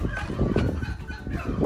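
Chickens cluck and squawk close by as they are put into a school bus converted into a mobile coop, with a busy burst of calls and some handling noise.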